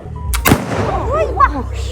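A single sharp rifle shot cracks loudly up close at a commemorative event in Lutsk, Ukraine, followed by voices talking.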